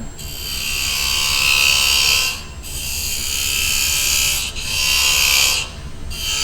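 Wood lathe turning a small wooden box, the tool cutting end grain and peeling off shavings in a steady, loud, close whine that dips briefly three times as the cut pauses and resumes.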